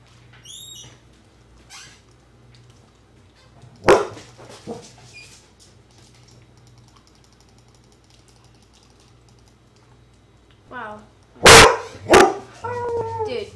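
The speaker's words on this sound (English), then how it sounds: "my dogs are barking at them" Dogs bark at people outside, heard as scattered sharp barks and yips, some faint and distant, with a louder cluster of barks near the end over a low steady background hum.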